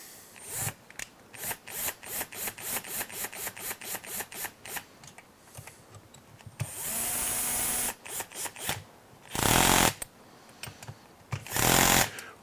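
A small driver working screws set with Loctite on an HPI Baja 5SC SS RC truck build: a long run of quick, evenly spaced clicks, then a few sustained bursts of whirring, close and fairly loud.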